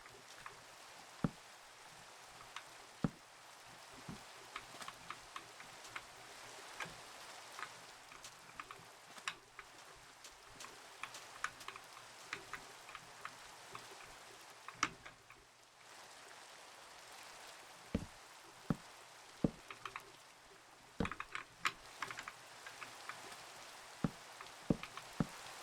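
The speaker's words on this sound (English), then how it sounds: "I'm like getting lost in the, um, the ambience of the rain." Steady soft rain hiss in Minecraft with scattered raindrop ticks over a quiet, even background, a faint continuous ambience with no voices.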